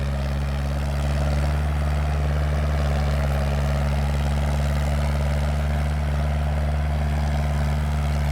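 Loud, steady diesel drone of a 47-horsepower Kubota L4708 tractor pulling a five-disc plow through loose sandy soil, holding a constant low throb close by with no talk.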